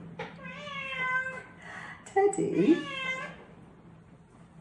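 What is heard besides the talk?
pet cat meowing and whining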